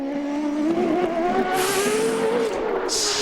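CART race car engine howling during 2002 Denver qualifying, a sustained near, high revving whine with bursts of harsh ratcheting crackle from the traction control cutting the spark.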